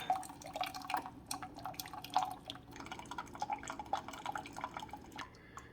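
A Keurig K-Supreme Plus coffee maker pushing hot water through its needles: quiet, irregular dripping and spattering with small splashes, close by and faint.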